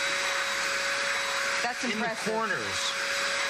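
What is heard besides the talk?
Princess Turbo Tiger vacuum cleaner running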